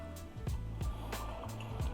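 Looping nature water soundscape played from a Boom 3i speaker, layered over breakfast ambience: a steady wash of liquid sound with soft, regular low thumps recurring about every third of a second, close and moderately loud.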